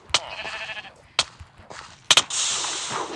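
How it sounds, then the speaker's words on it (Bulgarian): Sheep in a survival video game bleat in several short, sharp calls, close and fairly loud, with brief gaps between them and a longer final bleat. "Ще подпалиш овците, бе!"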